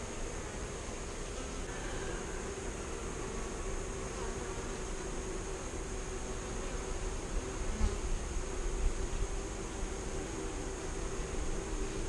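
Many Italian honeybees from newly installed nucs hum around the hive in a dense, steady drone, a constant close swarm buzz with no talking.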